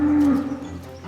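A dairy cow lows once on a farm at early-morning milking time, a single drawn-out moo near at hand that fades over about a second.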